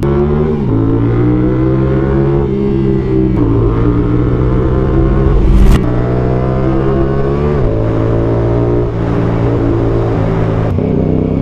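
A CF Moto 450SR-S motorcycle with a 270-degree crank and an SC Project CR-T exhaust revs hard and close, its loud engine note rising and falling through repeated throttle blips and shifts with no voices.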